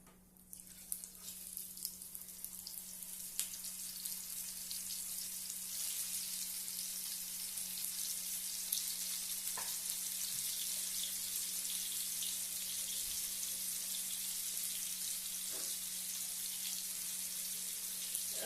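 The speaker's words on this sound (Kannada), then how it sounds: "ಈಗ ಮ್ಯಾರಿನೇಟ್ ಮಾಡ್ಕೊಂಡಿದ್ವಲ್ಲ ಫಿಶ್ಶು, ಸೊ ಅದನ್ನು ತವ ಮೇಲೆ ಹಾಕೋಣ." Marinated fish frying on a tawa gives a continuous bright sizzle that builds after the first second and then holds steady and fairly soft, with a faint low hum underneath and a few small pops.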